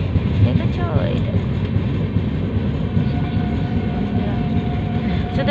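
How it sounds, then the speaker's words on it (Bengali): A goods train loaded with coal passes close by with a continuous loud, heavy rumble and rolling wagon noise throughout, and a voice faintly underneath. "এই দেখো একটা মালগাড়ি যাচ্ছে, মালগাড়ির মধ্যে কয়লা ভর্তি করা, দেখেছো?"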